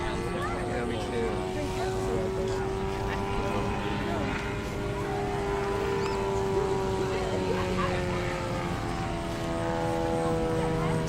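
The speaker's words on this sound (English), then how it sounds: "Smallest paramotor engine ever, yeah." A small paramotor engine drones steadily at an outdoor flying festival, its sustained buzzing tone slowly shifting in pitch, loud and continuous throughout.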